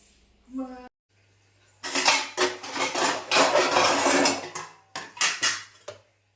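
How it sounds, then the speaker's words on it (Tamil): Dishes, pots and pans clatter and scrape in a long busy stretch of washing, with a low steady hum underneath and brief pauses between bursts. "வாங்க பாத்திரம் கழுவலாம்"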